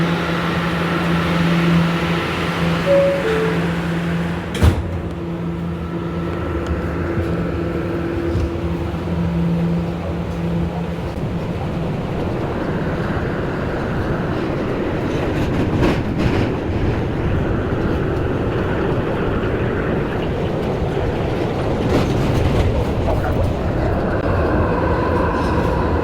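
An R211A Bronx-bound B subway train sounds tones as its doors close, then pulls away from the station with a building, continuous rumble and rail noise.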